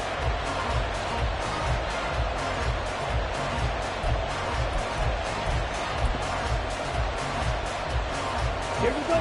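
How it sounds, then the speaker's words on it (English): A football stadium crowd at a season opener gives a steady, broad roar, with a commentator's voice running over it throughout. "this crowd's going to get even louder"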